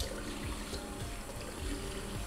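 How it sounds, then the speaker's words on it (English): Water poured into a plastic bowl in a kitchen, a steady trickling, splashing stream that runs continuously and fairly close, with no talk over it. "Just pour a little bit of water in there."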